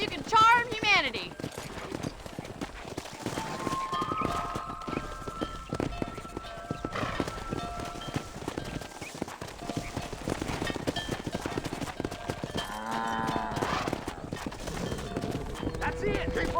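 In the Red Dead Redemption video game, a rider herds cows on horseback: hoofbeats clip-clop steadily, horses whinny, and game music plays while characters call out directions.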